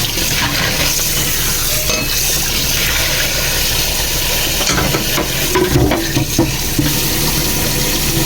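Food being washed in water at home, a steady rush and splash of running water with a few small clinks, continuous and fairly loud throughout.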